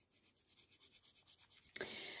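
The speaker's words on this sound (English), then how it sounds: "every time when I'm placing those fake tips, I'm sanding them" A file sands plastic fake nail tips with quick, regular back-and-forth strokes, a soft rhythmic rasping that stops abruptly before a louder brush of noise at the end; no one speaks.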